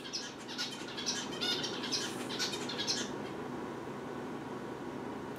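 A pet bird chirps indoors, a string of faint, quick high tweets in the first half that fade into quiet room noise.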